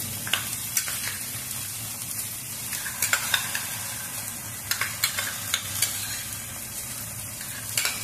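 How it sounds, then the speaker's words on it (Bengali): Tomato paste frying with onion, ginger and garlic over medium-high flame, a steady close sizzle broken by repeated scraping and clicking stirring strokes. "এরপরে আমি টমেটোর যে পেস্ট আমি করে রেখেছি সেই টমেটোর পেস্টটা আমি দিয়ে দেবো।"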